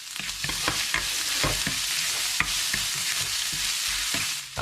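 Ginger sizzling in hot cooking oil in a pan, a steady frying hiss with scattered crackles and the occasional scrape of stirring, close and fairly loud throughout, with no talking.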